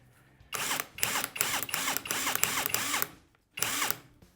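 A high-torque 2-in-1 cordless drill whirs in several close, loud bursts, briefly stopping between runs, with a whining motor pitch that rises and falls.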